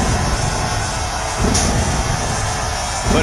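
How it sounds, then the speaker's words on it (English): A dense, roaring arena crowd fills the WWE 2K18 wrestling arena, loud and continuous with swells of cheering and no clear gaps. "This crowd is amped up and ready to go."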